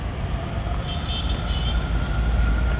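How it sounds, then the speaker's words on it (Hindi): A Navi Mumbai Metro Line 1 train runs past with a steady, loud rumble and wheel noise, a faint high whine rising briefly in the middle, with no talking. "सेम साउंड ना मुंबई मेट्रो जैसे ही है यार, सेम ही है।"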